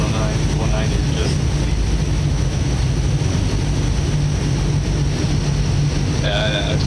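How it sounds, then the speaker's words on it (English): A steady, loud engine drone from a Focke-Wulf Fw 190 fighter in a flight game, holding a constant low roar throughout with a brief higher tone near the end. "the engine sound doesn't actually sound like you're moving the kind of speed that you're actually doing"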